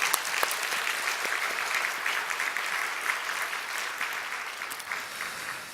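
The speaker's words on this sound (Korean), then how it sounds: "우리 박수 한번 드리겠습니다" A church congregation applauds during a Sunday morning worship service, a dense, even wash of clapping from many hands that holds steady for several seconds before easing off slightly at the end.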